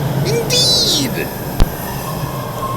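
A subway train runs along rails with a steady rumbling roar, a brief rising wheel squeal and a sharp click partway through, heard up close.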